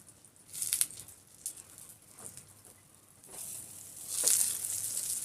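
An egg paratha fries in a pan with a soft, steady sizzle and patter that swells in a few brief bursts. It is fairly faint, and no one talks.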